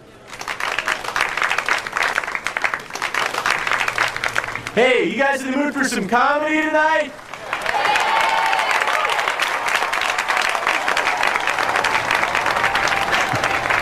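Studio audience applause at a live comedy show fills most of the stretch, a dense steady clatter of many hands that drops briefly while a host speaks over it, then swells back up at full strength.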